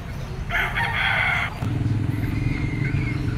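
A green-legged rooster at a Pasig pet market, where chickens are sold, lets out one loud, close crow, then a lower rhythmic clucking follows amid market background noise.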